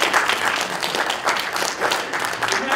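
Members at a Toastmasters club meeting give sustained applause, a dense, steady crowd clapping with a slightly pulsing texture, loud and close, with a voice faintly mixed in.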